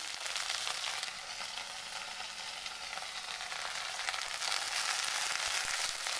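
Cowpea greens hit a pan of browned onions with a steady, bright sizzle of frying that holds for several seconds and swells slightly toward the end, with no voices over it.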